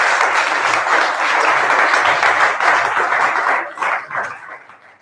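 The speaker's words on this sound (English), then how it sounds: "Maybe have a big round of applause." A retreat audience at a Buddhist teaching event breaks into a big round of applause, dense and loud throughout, thinning and fading out near the end.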